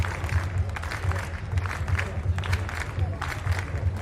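Stadium crowd at an athletics jump competition in Košice applauding and cheering in rhythmic bursts, a steady wash of clapping with periodic swells, heard from a distance with some talk mixed in.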